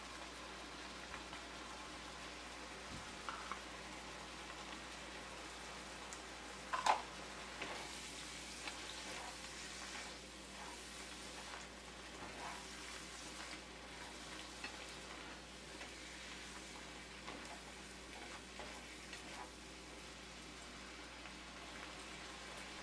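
Peppers fry in a pan for Haitian patties, giving a soft, continuous sizzle and crackle at low level with one brief clatter partway through; no one speaks.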